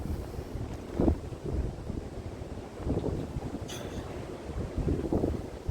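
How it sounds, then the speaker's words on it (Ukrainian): Gusty wind on the Odesa seafront under a storm warning buffets the microphone in low rumbling bursts that swell and fade, with faint background noise and no voices. "Тож ходімо, бачите, який вітер?"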